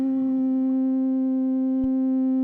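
A synth tone from a Roland SP-404 MK2 sound generator holds steady with a gentle pitch warble, rich in even harmonics, with a brief low thump near the end and no other sounds.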